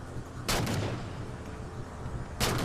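Light rifle fire in the Halo 4 campaign: two short, sharp bursts about two seconds apart, each a quick crackling volley over a low rumbling game background.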